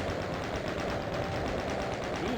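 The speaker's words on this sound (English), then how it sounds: "So I'm gonna pull out my chain gun." Rapid chain gun fire from the video game Doom, a steady stream of evenly spaced shots running continuously and loud throughout, with no talk over it.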